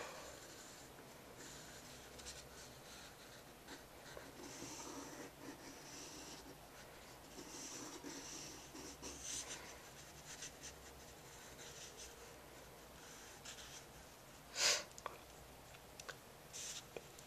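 Pencil drawing contour lines on paper: soft, continuous scratchy graphite strokes close by, quiet and steady, with a brief sharper tap near the end.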